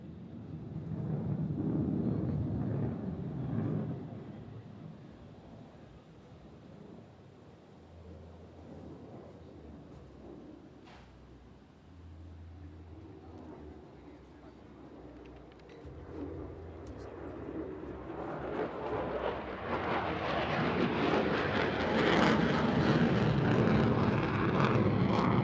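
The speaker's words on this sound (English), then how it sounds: "This demonstrates the maneuvering capabilities of the F-35C at low speeds and high angles of attack." An F-35C fighter jet flies a slow, high angle-of-attack pedal turn at an air show, its engine roar swelling from a moderate rumble to a loud, close, broadband blast toward the end.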